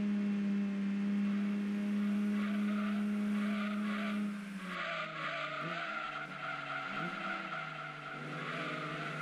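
A racing car in Gran Turismo 2 struggling through a corner, its engine note droning steadily then dropping and shifting pitch, with tyre skid and squeal layered over the revving, no voices.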